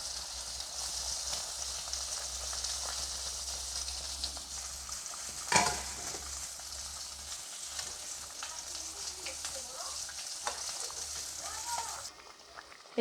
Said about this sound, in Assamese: বেঙেনা আৰু মাছখিনি এড কৰিছোঁ